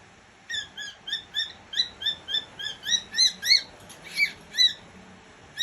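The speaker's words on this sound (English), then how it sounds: "Jaspirito, leave old bird Leo alone." An old pet bird squawks in a rapid series of about a dozen sharp, harsh calls, rising in loudness, close by and alone in a quiet room.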